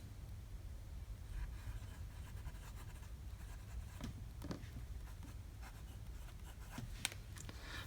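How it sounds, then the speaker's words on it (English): A freshly primed fountain pen scratches across paper in short, faint strokes, close up and steady against a low background rumble. "so I just primed it just a little bit, and we'll hopefully get some writing out of it now"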